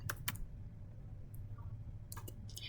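Commands typed on a computer keyboard for a Cisco router setup, a few quiet, separated key clicks with short gaps between them over a low, faint room hum.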